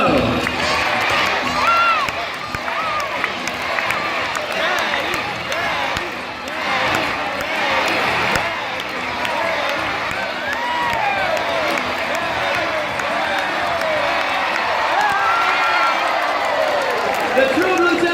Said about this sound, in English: Zonda supporters, I think you need to cheer louder for the birds.